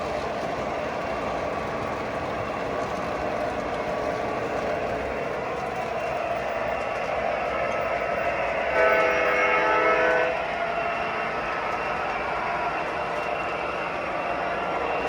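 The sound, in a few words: model Norfolk Southern train running past with caboose light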